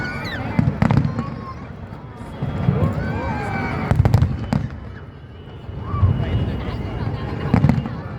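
Fireworks at a pyromusical competition on the seaside at Mall of Asia burst repeatedly with loud cracks and booming thuds, while spectators nearby talk and exclaim between the explosions.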